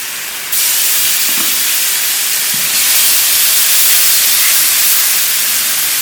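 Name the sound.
garlic sizzling in hot oil in frying pan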